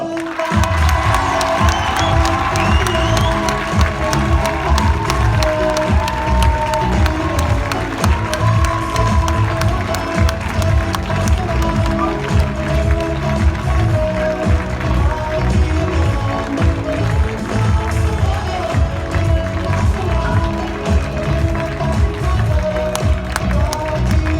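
A large crowd claps and cheers continuously, loud and sustained, with a dense roar of applause and shouts throughout.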